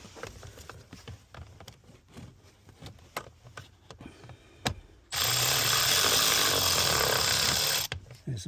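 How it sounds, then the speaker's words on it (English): A cordless ratchet tightens the oil drain plug on a 2016 Ford Mustang GT. After a few seconds of quiet handling clicks and taps, it gives a loud, continuous whirring burst of about three seconds, then stops. "Let me grab my cordless ratchet."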